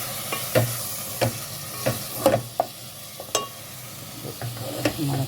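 Masala and tomatoes frying in oil for a Kerala-style fish curry, a steady close sizzle broken by repeated stirring scrapes and clinks of a spoon against the pan.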